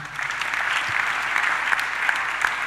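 A church congregation applauding together, dense sustained clapping from many hands throughout, steady and moderately loud with no voices standing out.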